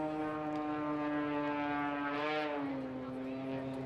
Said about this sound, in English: as the jets kick in, you can hear them now as he uses all that thrust to keep the aircraft climbing